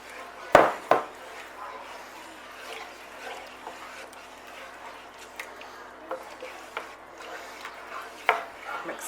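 Eggs are mixed into a chicken and ham pie filling off the heat, with a couple of sharp clacks at the start followed by soft, irregular stirring and scraping taps, fairly close.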